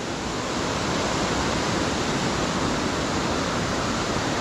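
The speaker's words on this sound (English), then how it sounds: "because of the rain that we've been getting, the river's running fast torrents" Rushing water roars in a steady, dense hiss, a fast river swollen by rain churning continuously nearby in a park, with no voices.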